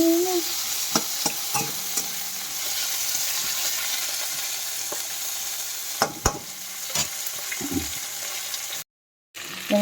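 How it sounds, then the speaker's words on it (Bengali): Onions stir-fry in hot oil for lentil dal, a continuous sizzle broken by several sharp scrapes and clacks of a spatula against the pan, close and loud, with no talk. "এখানে পেঁয়াজ ভাজা চলছে ডালের"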